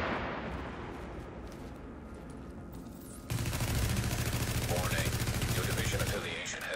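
Gunfire in The Division: scattered shots at first, then an abrupt jump into loud, sustained rapid automatic fire that runs for about three seconds, with someone talking over it.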